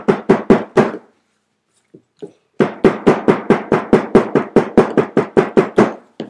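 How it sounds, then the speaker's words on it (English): Sharp hammer taps on a rivet set into a leather wallet, a quick burst of four strikes, a pause with two faint taps, then a steady run of about fifteen close, evenly spaced blows. "So I'll give this a tap with the hammer,"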